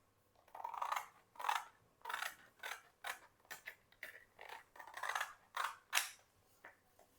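Scissors trim the edges of pattern paper on a decorated album in a steady series of about a dozen close, soft snips at a regular rhythm, with no voices.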